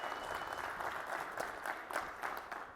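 An audience at a live talk by mental-math performer Arthur Benjamin claps in a sustained round of applause, a dense, fairly distant patter of many hands that swells and fades slightly, with no speech.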